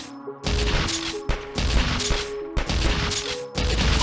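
Loud, dense gunfire in the video game Brick'd, with continuous bursts and booming impacts filling the whole stretch, broken by a couple of brief gaps.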